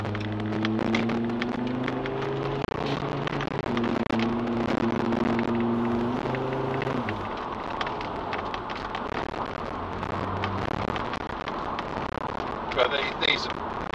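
A 1990s Volvo 850R automatic estate cruises along a road, its engine holding a steady low drone with shifting pitch as it changes, mixed with continuous road and tyre rush heard from inside the car.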